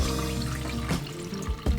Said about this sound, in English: I need a sieve first to get all the water out.